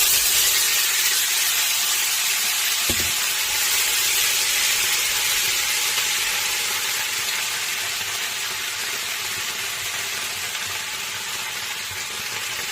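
Sliced potatoes fry in butter in a plain steel pan, giving a loud, dense, steady sizzle and hiss close up that eases slightly over time, with one brief knock of utensil on pan and no talking.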